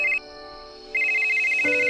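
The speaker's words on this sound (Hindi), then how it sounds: "तभी उसकी वाइफ का फोन आया।" A mobile phone rings with an incoming call from a wife, a bright electronic ringtone of sustained pure tones that pauses briefly and then resumes loudly with a shifting melodic pattern, heard alone and close.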